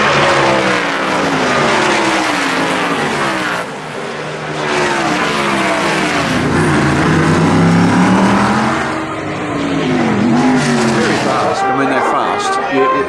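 Formula 5000 racing cars roar past at speed on a circuit, engines loud and sustained with rising and falling pitch as they pass, one after another with little pause.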